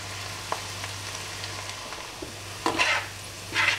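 Onions frying and browning in butter in a pan, a steady quiet sizzle with a few louder crackling bursts and spoon stirs near the end, close by with no talking.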